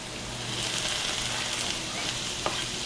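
Onions and chopped Spam sizzle and fry steadily in hot oil for spam fried rice, a dense, continuous crackle close to the pan with one small pop near the end.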